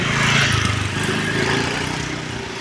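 Vehicles, likely motorbikes or small engines, pass along a rainy road one after another, a loud rumbling drone that swells early and then fades slightly, with no speech.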